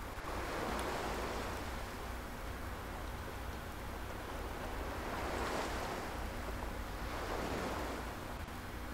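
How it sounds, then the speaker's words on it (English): Ocean waves washing onto a beach in a Kirby video game, a soft steady surf wash with gentle swells rising and falling throughout, no voices. "We're on a beach."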